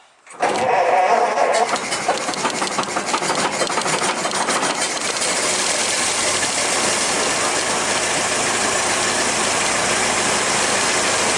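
A Ford Model T engine started from an Optima Red Top battery cranks briefly, then catches and settles into a loud, steady running clatter with fast mechanical ticking, close by and continuous.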